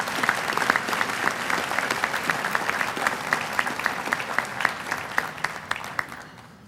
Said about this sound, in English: Let's give all of these past year inductees a round of applause.